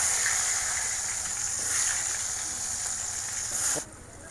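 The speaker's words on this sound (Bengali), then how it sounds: "এখন করল্লা ভাজি করে নেব" Sliced bitter gourd fries in oil in a pan, a steady close hiss and sizzle that runs throughout, then cuts to a quieter tone near the end.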